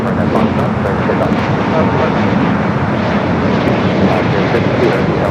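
Jet airliner roaring steadily during takeoff on runway 25 right at Los Angeles International Airport, a loud continuous broadband engine rumble from start to finish with speech mixed in.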